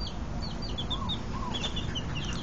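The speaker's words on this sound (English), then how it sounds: "10 baby chicks were adopted by Bailey this morning" Several newly hatched baby chicks cheep in short, high, repeated chirps over a steady low background rumble, the calls fairly faint and scattered through the moment.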